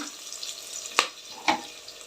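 Curry leaves hit hot oil for lemon rice, giving a soft, steady frying hiss that is punctuated by two brief crackling pops close together; no one speaks.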